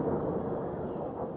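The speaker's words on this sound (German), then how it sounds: "Es donnert!" Rolling thunder from a storm outside, a steady low rumble that fills the short moment at moderate level, heard alone without voices.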